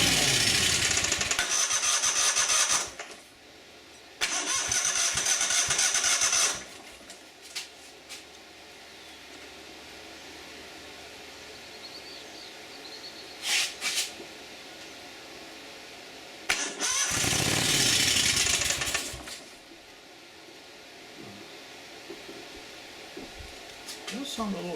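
A Yard Man lawn mower engine is cranked repeatedly, with three loud bursts of several seconds each, separated by quieter stretches of low background hum and a few brief knocks.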